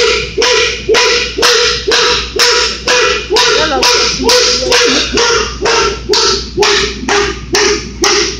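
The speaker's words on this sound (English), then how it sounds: "He's a beautiful dog." A beautiful dog barking repeatedly in a steady rhythm, close and loud, during a dog pulling event, with voices talking faintly in the background.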